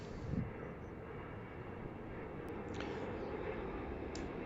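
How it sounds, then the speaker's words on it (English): A Virgin Atlantic Boeing Dreamliner airliner at Heathrow Airport gives a steady, moderately loud broadband jet roar that holds throughout, heard from outdoors at a distance. "It's a Dreamliner, so it's a bendy wendy."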